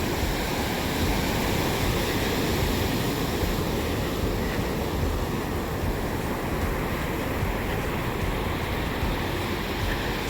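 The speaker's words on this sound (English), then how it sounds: "That was a big wave that just came." Ocean surf on a beach in Goa, a dense continuous roar of breaking waves with wind buffeting the microphone, loud and unbroken for the whole stretch.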